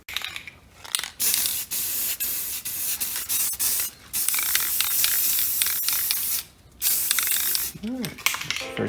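Spray paint hissing onto a 3D printed emblem in bursts of several seconds, with short pauses between passes and a brief faint voice near the end.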